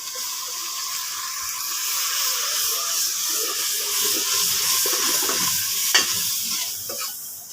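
Spice masala frying with browned onions in a pan, a steady close sizzle with stirring scrapes and a brief clatter near the end, no talking.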